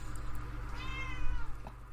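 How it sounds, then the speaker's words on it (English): A house cat gives a single short meow close by, indoors over the steady hum of a running fan. "my cat is meowing"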